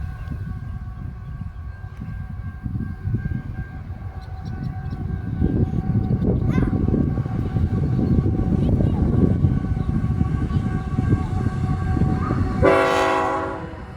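A southbound train rumbles past nearby with a steady, building roar of rolling cars, then its horn blasts loudly near the end; faint talk is heard at times.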